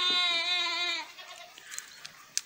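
A single drawn-out bleat from a goat close by at a village farm with a ram, about a second long, followed by faint rustling and a few small knocks.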